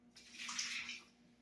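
Sugar syrup, a mix of water and sugar, is poured out in one brief, soft splashing stream that lasts about a second, faint and close with no talking.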